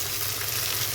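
Tomato frying in a pan for vegetable semiya upma, a dense continuous sizzle that stays steady and fairly loud through the short moment, with no voice over it.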